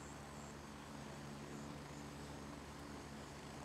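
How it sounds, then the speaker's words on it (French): An arriving helicopter in the video game Gray Zone Warfare, a faint, steady rotor and engine drone that holds evenly with no one speaking. "Il y a un hélico qui arrive."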